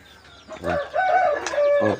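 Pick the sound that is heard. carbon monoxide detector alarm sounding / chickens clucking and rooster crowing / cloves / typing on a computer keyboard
chickens clucking and rooster crowing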